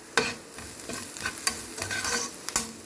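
Egg noodles stir-fried in a pan with a little salt, a steady sizzle broken by sharp scraping clicks of the spatula, several strokes in a loose rhythm, close and moderately loud with no voices.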